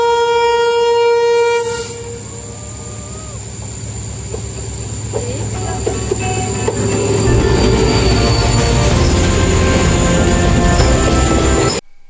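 A Mangaluru–Bengaluru train sounds a long, loud horn, then rumbles close past with wheels squealing and clattering on the rails, building louder before it cuts off.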